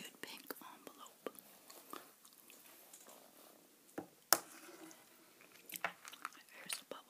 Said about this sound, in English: Here's a bubblegum I'm chewing today, by the way. Sugar-free bazooka bubblegum.